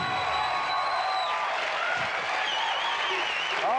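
Studio audience at a late-night television talk show breaking into applause, a broad continuous clapping under and mixed with voices talking and exclaiming in the room.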